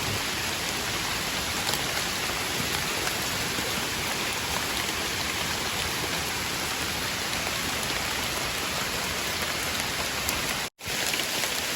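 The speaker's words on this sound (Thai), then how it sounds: "ฝนก็มาแล้วก็ไม่หวั่นเนาะ" Steady, heavy rain falls continuously on a mushroom-picking outing, a dense hiss that holds throughout and drops out for only a split second near the end.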